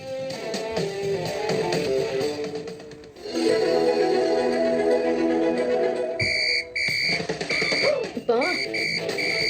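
A whistle is blown hard in repeated shrill blasts during a domestic scene, loud and piercing above the surrounding noise, with sharp bursts near the end.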